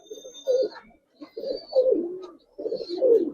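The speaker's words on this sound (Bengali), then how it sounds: "এটা লাল গেরের কবুতর" Giribaz pigeons, a red-eyed bird among them, coo in repeated low throaty phrases with short pauses, close and fairly loud, alongside faint higher chirps.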